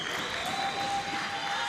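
Crowd at a wheelchair rugby world championship game in Barcelona reacting with steady applause and cheering, a continuous wash of clapping at moderate distance with no clear speech over it.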